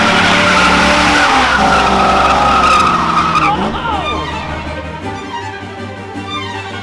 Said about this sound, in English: I probably have one of the worst burnouts in the competition